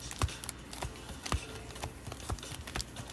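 Trading cards are shuffled at a card shop, a quick run of soft irregular clicks and riffling taps close by with no voices.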